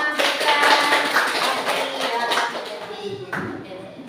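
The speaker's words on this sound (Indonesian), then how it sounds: "tepuk tangan untuk semuanya" A classroom of children applauds everyone together, a dense burst of clapping close by that holds for a few seconds with voices mixed in, then thins out toward the end.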